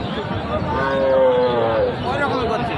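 Cattle at a busy livestock market in Joypurhat moo loudly and close by, one long drawn-out low call rising over a dense background of market crowd murmur.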